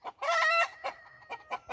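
Hens sitting on eggs give a few close, soft clucks and one longer drawn-out call, short separate bursts with quiet gaps between them and no talking.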